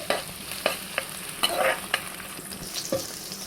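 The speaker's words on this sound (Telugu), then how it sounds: "ఇప్పుడు ఆనియన్స్ వేసుకుందాం. ఇది కొంచెం అలా తిప్పేసుకొని," Onions are stirred in a frying pan with green chillies while making veg momos, giving a soft sizzle under sharp intermittent scrapes and clicks of a spoon against the pan. No one speaks.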